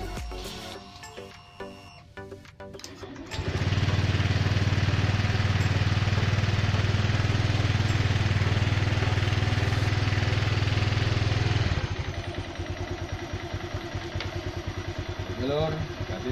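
Honda Beat FI / Vario scooter engine cranks and catches after some handling noise, then idles loudly and steadily up close before dropping to a lower, rougher idle.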